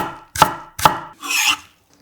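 Knife cutting half a green onion diagonally into 0.5 cm slices on a cutting board: two sharp close chops followed by a longer scraping slice, alone with no talk.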